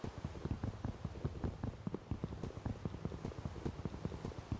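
Soft, steady rain patter in a video game, a faint stream of small ticking droplets falling at an even, dense rhythm with no voices over it.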